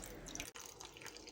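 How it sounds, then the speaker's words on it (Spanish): Water from a glass poured into a roasting pan holding chicken, vegetables and rosemary sprigs, a short steady trickle and splash heard alone and fairly faint. "Por último, agregamos un vaso de agua."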